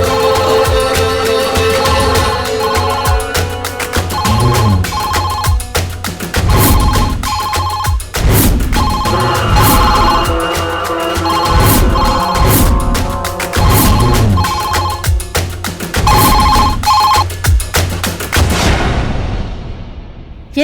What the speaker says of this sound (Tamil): என்னடா ரிங் ஃபுல்லா போயிட்டு கட் ஆகுதுமா